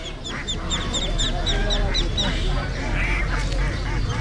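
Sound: ducks quacking at a village duck market

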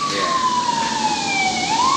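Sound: emergency vehicle siren passing in the city

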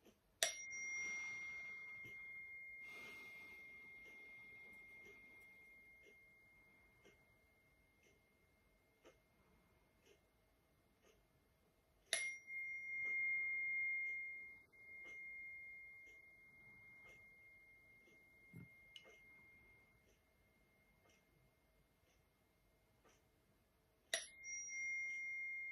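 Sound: chimes rung to clear the energy

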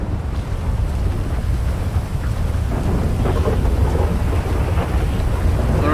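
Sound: heavy rain and thunder in the video game GTA 5

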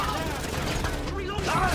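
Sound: gunfire in the video game GTA V

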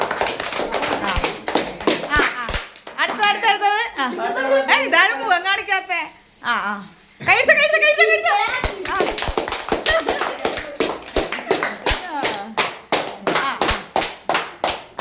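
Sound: people clapping

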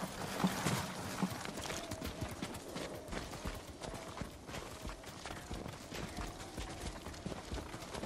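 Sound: video game horse hooves

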